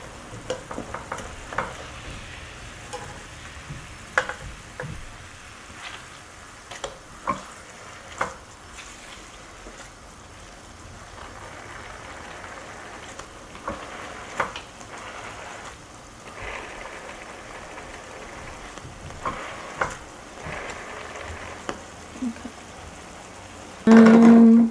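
Hamburger and rice sizzling in a pan, with a steady crackling fry broken by intermittent scrapes and clatters as the food is flipped and stirred.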